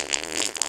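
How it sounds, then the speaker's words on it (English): A short, close, buzzy fart sound under a second long, steady and rasping. "Who the fuck is farting?"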